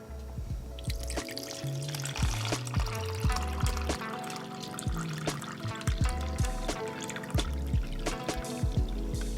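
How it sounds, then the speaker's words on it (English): Freshly shaken milk tea pours from a shaker into a cup in a continuous liquid stream with light splashing and trickling, heard over soft background music. "Now time to pour the drink in."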